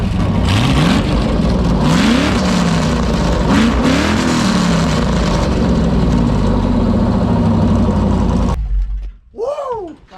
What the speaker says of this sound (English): I'll give a little bit of revs on it once it gets up to temp.